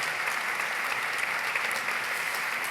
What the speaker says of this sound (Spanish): Quiero que le deis un fuerte aplauso a la primera mesa de este Congreso Espacial.